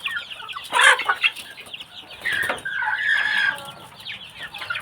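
Chicks and young roosters of a fighting-cock breed cluck and squawk close by in short bursts, with a louder shrill call partway through and quieter chatter between, no voices present.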